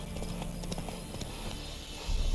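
Hooves of Roach, a horse in The Witcher 3, clip-clop in a steady trot over continuous game background sound, with a heavier thump near the end.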